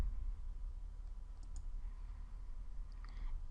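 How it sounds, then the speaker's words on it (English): A computer mouse gives a few quiet, isolated left clicks while working in Photoshop, sharp little ticks spaced apart over a faint low background rumble. "Then left click on the Move tool."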